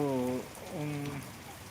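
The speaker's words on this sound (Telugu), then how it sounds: "వర్షం అయితే కొనసాగుతుంది" Heavy rain pours down in a constant broadband hiss while someone talks over it in the foreground.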